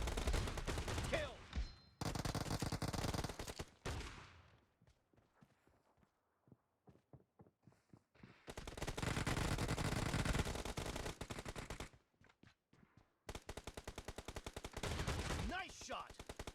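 Bursts of shotgun blasts and rapid gunfire erupt in the Battlegrounds video game, loud volleys separated by quieter stretches of footsteps and sparse single shots.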